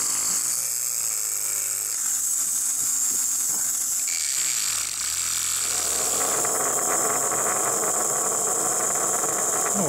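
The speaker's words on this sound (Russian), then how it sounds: "Вот такой советский брутальный моторчик." Small Soviet-made electric motor powered at about 5.8 volts, whirring steadily and close up with a high buzzing whine, its pitch wavering and dipping midway before settling into a harsher, louder rattle.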